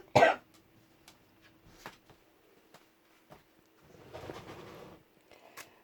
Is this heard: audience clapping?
no